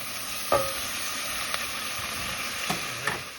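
Onions frying steadily in a pan beside pork chops and peppers, a constant close hiss of sizzling broken by a few light stirring clicks and taps.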